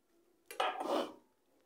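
Dal ladled onto hot rice on a plate: a brief close clatter of a ladle against the plate and a soft wet pour lasting under a second, with quiet surroundings.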